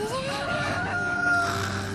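A rooster crowing in a My Little Pony cartoon, one drawn-out cock-a-doodle-doo heard close and clear over about two seconds.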